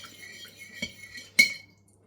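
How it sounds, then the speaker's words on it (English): A spoon clinks against a bowl as olive oil is mixed into bread dough, two sharp metallic taps, the second louder, over near silence. "a tablespoon of olive oil. Mix it in a little bit."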